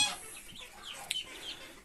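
A Muscovy duck calls with soft, hoarse, breathy notes close by, a few rasping bursts and one sharper peak amid a hissy background.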